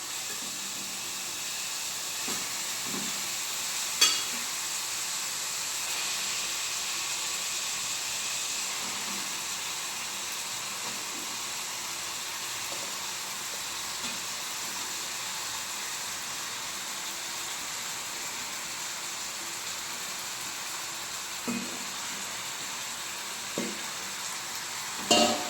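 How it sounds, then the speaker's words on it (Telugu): Fish pieces fry with tomato in an Andhra-style fish curry pan, giving a steady close hissing sizzle throughout with occasional soft clicks and a few spoon knocks, no voices. "టమాటా ఇలా ఫ్రై అయిపోతుంది. ఇప్పుడు మనం చేప ముక్కలు వేసుకున్నామండి."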